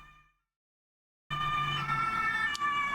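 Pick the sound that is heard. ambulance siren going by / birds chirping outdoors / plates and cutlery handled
ambulance siren going by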